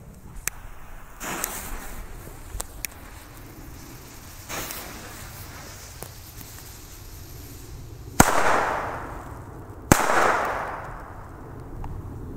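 German D-Böller firecrackers from a WECO Booster assortment exploding outdoors, two loud sharp bangs a couple of seconds apart each followed by a rushing echo, preceded by faint pops and steady background hiss.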